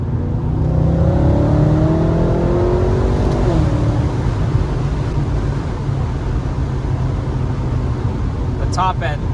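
A BMW F10 M5 with a stage 2 tune on E85 accelerates hard with short shifts, its engine note rising in loud sweeps under steady cabin road roar, with a voice speaking briefly near the end.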